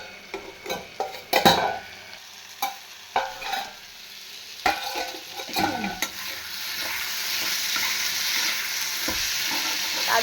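Potatoes frying in a pan, first stirred with a run of sharp, close scrapes and clanks, then left covered on low heat to a steady, hissing sizzle.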